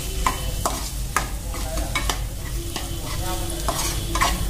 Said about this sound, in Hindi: अब हम अपनी डाल देते हैं भुनी हुई कटी हुई खीरा, और इसको अच्छे से मसाले में कर लेते हैं मिक्स